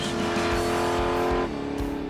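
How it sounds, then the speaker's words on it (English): A drag car spins its tires through a three-gear, 330-foot burnout on a dragstrip, a loud sustained engine roar with rising gear pulls that drops in pitch near the end. "A 3-gear, 330-foot burnout."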